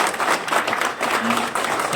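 Audience applause at a healthcare robotics launch event in Delhi-NCR, honoring an Olympic rifle shooter: a steady, dense wash of clapping from a crowd that carries on for the whole stretch.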